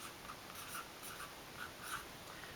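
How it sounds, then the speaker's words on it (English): A pen or marker writes on a board, making faint, brief scratchy strokes in short bursts over a quiet background hum, with no talk. "So I'm going to write this one first now."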